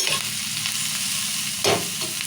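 Onion and red lentil curry stirred in a hot pan, a steady close sizzle under brief scraping strokes, with one louder scrape near the end.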